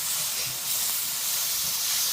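Ginger garlic paste with spices sautéing in a pan for butter chicken, a steady close sizzling hiss with no speech over it.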